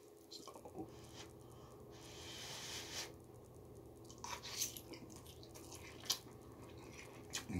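Quiet, close biting and chewing of spicy hot noodles, with soft irregular crunches and wet squishing mouth sounds spread across several seconds, no talking.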